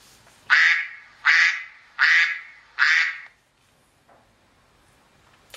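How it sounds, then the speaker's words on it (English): A duck quacking ringtone plays four loud, evenly spaced nasal quacks close up, then stops into near silence. "Now let me try duck."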